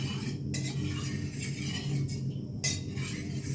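A metal utensil scrapes and stirs hot oil around a kadai, with soft, repeated clinks and scrapes against the pan and a low hiss beneath them.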